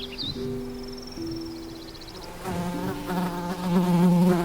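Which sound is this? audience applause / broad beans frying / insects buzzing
insects buzzing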